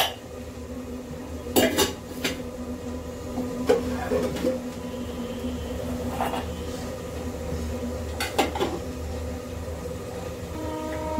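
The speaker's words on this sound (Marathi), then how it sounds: "मी मगाशी घासलेली भांडी रचत आहे मित्रांनो." Washed steel dishes, pots and pans being stacked in a home kitchen, with a few sharp metallic clanks and clatters spread apart over a low steady background hum.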